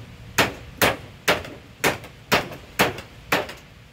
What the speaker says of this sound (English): This is when I take the real hammer. And I try to put the nails